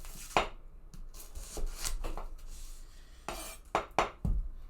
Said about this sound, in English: the julienning of the onions is really just a very important part of this soup